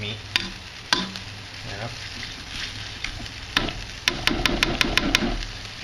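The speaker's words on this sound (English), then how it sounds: "Try to evenly cook the meat." Meat for Thai pad see ew sizzles and frys in a pan, with sharp clacks of a spatula stirring and a quick run of rapid scraping taps near the end; a brief spoken word interrupts.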